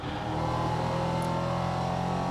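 Onboard race car engine during an Elite 1 race at Zolder, a loud steady drone holding high revs with dense harmonic buzz throughout, close and continuous with no talk.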